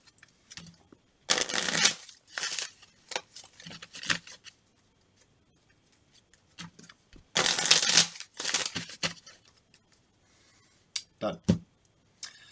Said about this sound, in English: all of the player cards get shuffled together